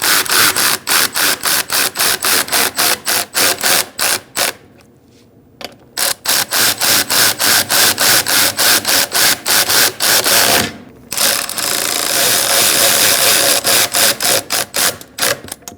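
Rapid ratchet clicking tightening intake manifold bolts on a 2008-2014 Mercedes-Benz C300 3.0L V6, loud and close, in steady bursts with two brief pauses, no talk.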